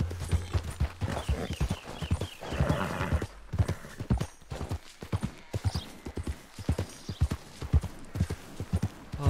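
A horse in Red Dead Redemption 2 clip-clops along at a steady gait, hoofbeats loud and close and evenly spaced, with a whinny partway through.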